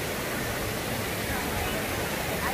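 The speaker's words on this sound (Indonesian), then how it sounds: "Air terjun ni." A waterfall at Lata Iskandar rushes in a steady, dense roar that fills the scene without pause.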